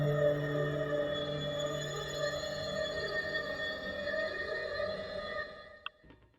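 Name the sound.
two synthesizers playing together for German pilot theme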